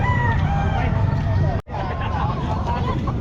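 A bull stag rooster crows loudly and close at a chicken sale, the call running continuously over a murmur of crowd chatter and voices.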